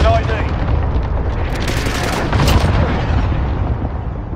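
Cluster strike explosions in a military shooter game, a sustained roar of heavy blasts and rumbling booms with crackling bursts around the middle, loud and continuous, with radio chatter mixed in.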